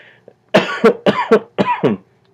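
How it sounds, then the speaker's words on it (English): A gaming news presenter coughs alone in a quiet room, a close, loud burst of about five sharp coughs in quick succession, with a brief pause splitting them into two clusters. "Sorry, coughing."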